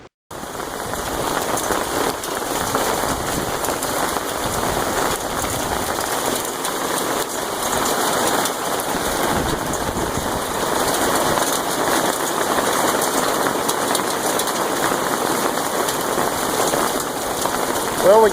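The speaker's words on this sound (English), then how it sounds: "all of a sudden we had a downpour, and this was hail and everything else" Heavy rain and hail pour down around an RV campsite in a loud, dense, unbroken roar of drops hitting surfaces for the whole stretch.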